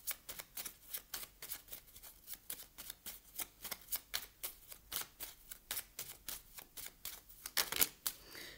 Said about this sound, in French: Je vous tire une dernière carte